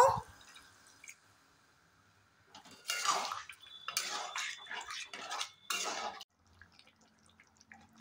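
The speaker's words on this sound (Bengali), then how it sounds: "এর মধ্যে আমি দিয়ে দেব জল। আঁচ বাড়িয়ে ফুটিয়ে নেব।" Water poured into a pan of spiced cauliflower masala, a splashing, sizzling pour lasting a few seconds amid clinking of a pan and utensils, close and moderately loud, with quieter cooking sounds before and after.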